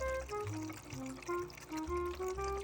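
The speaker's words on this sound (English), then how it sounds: "Oh, I do like that water wheel." A small solar fountain water feature with a water wheel and a copper disk splashes steadily, trickling and pouring in a continuous close wash with bubbling tonal gurgles.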